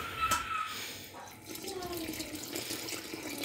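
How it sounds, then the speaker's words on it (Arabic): Water being poured into sourdough starter and mixed with a spoon, a faint, steady running trickle with small splashy ticks, quiet and close throughout. "دابا غنضيفو الماء وغنخلط هكا بالمعلقه"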